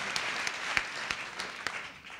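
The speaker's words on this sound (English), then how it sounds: "let's give the staff a round of applause" An audience at a keynote event claps in a sustained round of applause for the staff, with sharp individual claps standing out over a dense, steady wash.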